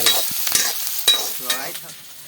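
Onions fry with pork in oil, sizzling close by while a utensil stirs and scrapes through them in short bursts.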